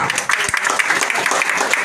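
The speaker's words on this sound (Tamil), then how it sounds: "கரகோஷம் போடுங்கப்பா" Audience at a district political planning meeting for a full-moon conference claps together in a dense, continuous burst, close and fairly loud, with faint voices mixed in.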